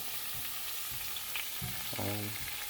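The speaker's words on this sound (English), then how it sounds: "So hear the sizzle." Steady, close sizzling of food frying in hot oil, with soft stirring clinks and scrapes now and then over the crackle.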